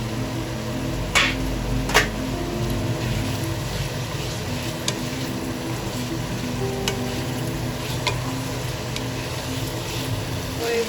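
Spices fry for pumpkin chhokka, and fried potatoes are stirred into them with a steady close sizzle. A couple of sharp utensil knocks land early, and a low hum runs underneath.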